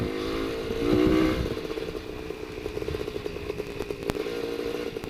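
A WSK 175 motorcycle engine runs steadily up close, a buzzy two-stroke drone with a brief swell in revs near the start and a sharp click partway through.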